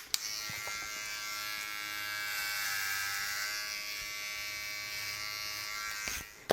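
A Wilkinson Sword Shave & Style electric trimmer shaves a scalp, giving a steady close buzzing drone that runs without a break for about six seconds, with small clicks at the start and end.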